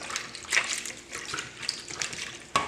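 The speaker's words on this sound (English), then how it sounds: "So we add that water into the brine." Cold water with a few ice cubes poured into a brine for braising chicken thighs, a continuous splashing trickle with a few louder sloshes and a sharp clink near the end, close and alone.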